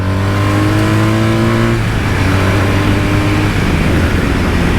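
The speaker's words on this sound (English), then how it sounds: "when the road opens up in front of you and you open that throttle" BMW R 1250 RT motorcycle accelerating hard at open throttle on an open road, a loud, close engine roar that climbs in pitch through a gear and keeps pulling, with strong wind rush and no talk.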